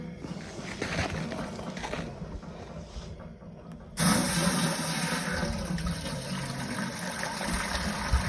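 Maple sap is poured from a container through a strainer into a pot, a steady rushing splash of liquid that grows louder and fuller midway and keeps running continuously.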